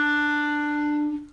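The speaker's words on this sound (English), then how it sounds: "E should sound something like this," A clarinet plays a sustained E, one steady clear tone held alone for just over a second before fading away.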